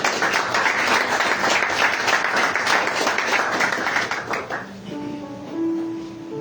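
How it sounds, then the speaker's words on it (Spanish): A church congregation claps during a sermon on baptism with the Holy Spirit, with sustained rhythmic applause for about four and a half seconds before it fades into a quiet room with a faint tone. "aplaudan al Señor"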